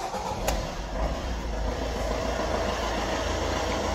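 A Fiat Doblo car engine turning over and catching, with a brief sharp click near the start followed by a steady, fairly loud rumbling idle that holds evenly to the end.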